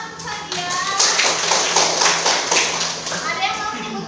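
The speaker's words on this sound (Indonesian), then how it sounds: "Tepuk tangan ya." Students clap together in a classroom, a dense patter of hands under children's voices and nearby talk.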